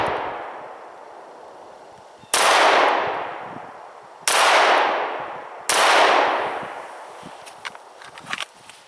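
Three sharp 9mm handgun shots from a Smith & Wesson M&P C.O.R.E. pistol with a red dot sight, each a loud crack with a decaying outdoor tail, spaced about two seconds apart, followed by faint clinks.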